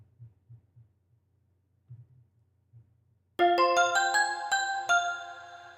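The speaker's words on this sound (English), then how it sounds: "I had some bells and made like a little pattern kind of like this one here." A bell pattern from a hip hop beat enters after a few soft low thumps: bright bell tones strike in a quick rhythmic run, loud and ringing.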